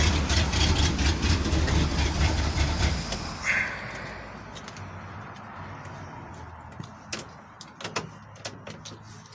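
A 1988 Dodge D350 tow truck engine runs with a loud, rough low rumble, then cuts off after a few seconds, leaving quiet background with scattered light clicks and knocks.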